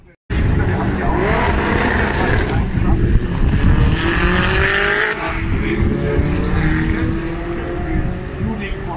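An Opel drag racing car engine revs hard and accelerates with a loud, rising roar on an eighth-mile sprint at Oschersleben, while a voice talks over it.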